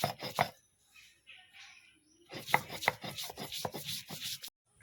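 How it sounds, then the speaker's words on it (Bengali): Soaked lentils being ground by hand on a Bengali stone grinding slab for lentil fritters, heard as rough rhythmic rubbing strokes in two bursts separated by a quiet pause, fairly close and with no talking. "এটা আমি এখন পাটায় বাটবো পাটায় বেটে বড়া করে একটা দুর্দান্ত রেসিপি করব"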